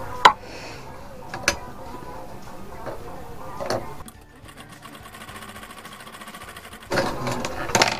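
A sewing machine stitches a half-inch folded hem on ladies' palazzo pants in short, close, rapid bursts at the start and finish, with a quieter, lighter ticking between them.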